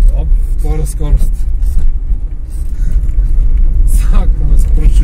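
A Lada car's engine rumbles low and steady as the driver shifts into second gear inside the cabin, with voices chatting over the drone.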